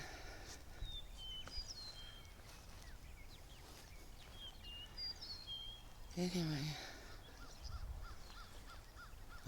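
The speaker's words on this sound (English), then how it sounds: "I hear the birds." Crows and small birds call in a garden in late autumn, scattered caws and chirps at middle distance over faint outdoor background, with a person speaking briefly.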